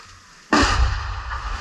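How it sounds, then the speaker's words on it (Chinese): A single sharp gunshot rings out in a village during combat in the Ukraine war, a sudden loud crack after near silence, followed by a rumbling echo that slowly decays. "零星的枪声让人再度绷紧神经"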